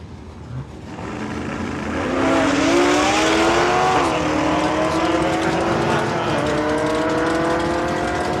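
A 2010 Camaro and a 1992 Ford Mustang launch side by side at a drag strip, their engines climbing in pitch through gear shifts as they accelerate away, loud and sustained, with a brief tire chirp.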